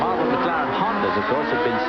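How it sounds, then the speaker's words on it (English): A 1989 Formula 1 AGS race car passes at the Phoenix street circuit, its non-turbo engine a steady high-revving whine under continuous race commentary. "There goes Gabriel Tarquini in the AGS"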